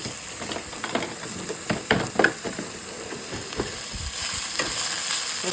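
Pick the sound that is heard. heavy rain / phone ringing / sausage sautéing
sausage sautéing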